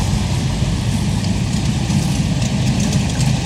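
Steady, low rumbling classic car engines idle close by at a car meet, a continuous throaty drone with no talking over it.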